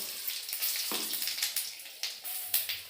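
Cumin seeds crackling in hot oil while dal is being prepared, a close sizzling hiss scattered with rapid popping spits and small bursts, irregular and steady throughout.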